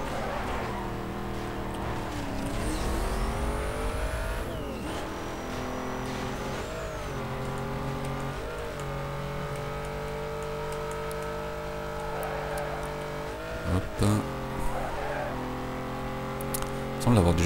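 A Ford Mustang in Need for Speed Most Wanted races with a sustained engine drone that rises and falls through revs and gear shifts, while a person talks over it.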